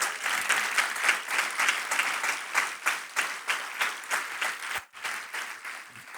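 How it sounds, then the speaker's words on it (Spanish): Church congregation applauding together during a sermon, steady rhythmic clapping sustained throughout with a brief dip near the end, fairly close and full. "Dele ese aplauso al Señor."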